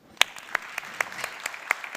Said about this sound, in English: We all get individual applause.